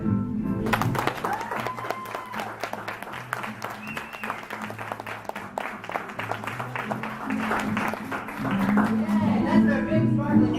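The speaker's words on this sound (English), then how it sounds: "Clap for them." An audience at a children's drama summer camp claps after a musical theater number, a sustained round of moderately loud applause lasting about ten seconds, with voices talking and cheering over it.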